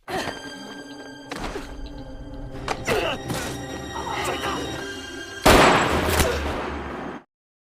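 A tranquilizer dart gun fires in a film scene, with a few dull thunks and impacts and then a loud, sharp, hissing burst near the end, set over layered music and ambience.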